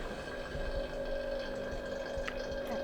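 A Tefal Pure Pop handheld steamer running dry while being descaled with vinegar gives a steady, close pump hum with faint watery gurgles and sputters throughout.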